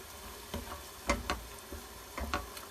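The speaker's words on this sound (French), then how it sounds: "Et après on mélange tout doucement à la cuillère" A creamy parmesan dish stirred slowly with a spoon, producing a few soft, separate clicks and scrapes against the pot over a quiet background, with no voices.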